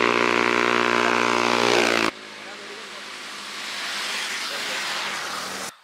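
A motorcycle engine drones loudly up close and then cuts off abruptly, leaving a quieter hiss of road and wind noise that slowly rises and fades at a village roadside stop.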